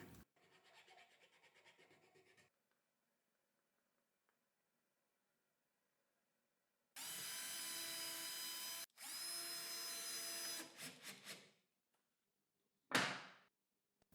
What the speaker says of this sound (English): I drill all the necessary holes and place the threaded inserts.